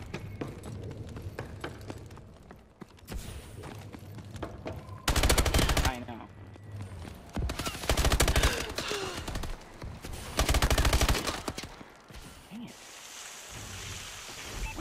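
Turret gunfire in a video game sounds as several loud, dense bursts of rapid shots over a steady background rumble, with a player talking in between.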